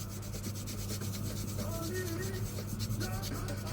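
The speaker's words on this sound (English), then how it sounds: "you're just smoothing off any rough edges that the stamp may have left" Steady close rubbing and filing as rough edges are smoothed on hand-stamped cutlery metal for jewellery, a continuous gritty abrasive scrape under a low hum.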